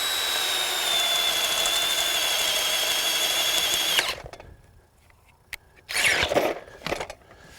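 A RIDGID 18-volt sub-compact brushless drill/driver on its low setting bores a 7/8-inch hole in wood, a steady whirring drone that stops abruptly, followed by quiet and a couple of brief rustling, handling noises.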